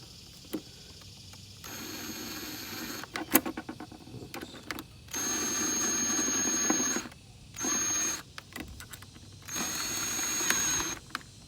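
Hand tool tightening bolts on a Spectre cold air intake being installed in a 2013 Ford F-150 engine bay, heard as bursts of rapid mechanical clicking and whirring separated by short pauses, close and fairly loud with no talk.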